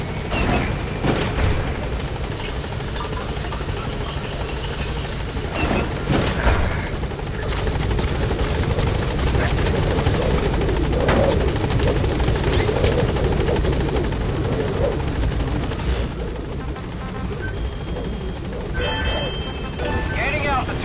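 A helicopter in the Metal Gear Solid V video game gains altitude with a loud, continuous rotor thump and engine roar, while voices talk over it.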